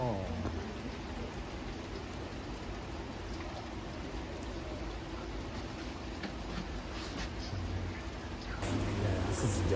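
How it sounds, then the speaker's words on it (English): Steady rain falls outdoors on a rainy day in Japan, a dense even hiss of drops on surfaces that continues throughout and grows slightly louder near the end. "It is a rainy day. It's not drizzling. Somehow it's not too much, but it's raining."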